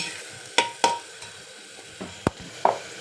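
Masala for egg biryani sizzles gently in a pan while a spoon scrapes and knocks through it in a few sharp, scattered strikes, close and moderately loud with no voices.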